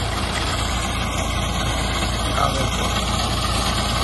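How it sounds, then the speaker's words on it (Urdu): A wheat-harvesting cutter machine's engine runs at a constant low rumbling idle, loud and close, holding steady throughout without pauses. "کٹر لگے کٹائی ہو رہی ہے"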